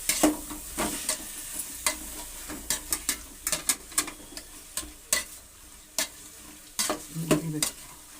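Bitter gourd gojju with tamarind and tomato frying in a pan: a steady sizzling hiss broken by frequent sharp clicks and scrapes of a spoon against the pan, close and fairly loud, no voices.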